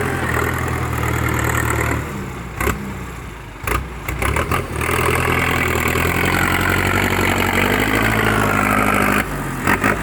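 A 6640 4x4 farm tractor engine runs steadily at idle with a mid-pitched diesel clatter, briefly dropping and stuttering as it is worked before settling back into a loud, continuous drone close to the microphone.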